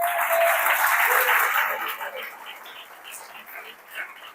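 A church congregation at a family worship service breaks into loud, dense applause that holds steady, then thins and fades over a few seconds, with scattered claps lingering.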